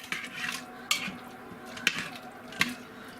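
Fried beef and ramen stirred in an Instant Pot, heard as a few sharp clanks of a utensil against the metal pot between softer scraping sounds over a faint background, with no talk.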